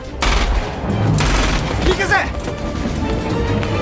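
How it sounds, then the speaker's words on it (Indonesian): A rapid burst of gunfire from the film Battle Royale erupts, loud and sharp, with rattling shots and booms layered under a voice speaking. "Tiba-tiba terdengar suara tembakan."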